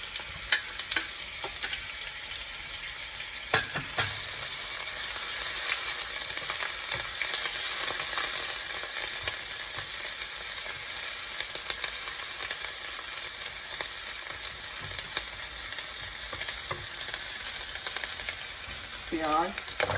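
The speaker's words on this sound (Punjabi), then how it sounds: "ਇਹਨੂੰ ਲੋ ਹੀਟ ਤੇ ਭੁੰਨਾਂਗੇ।" Onions and ginger paste fry on low heat, giving a steady, moderate sizzle that runs throughout, with occasional clinks of a spoon stirring the pan and a brief tonal squeak near the end.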